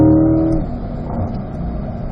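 A C8 Corvette engine on the Spring Mountain Raceway track accelerates with a loud, close, steady roar. The pitch holds briefly, then drops as it shifts up to fourth gear before pulling on again. No one speaks.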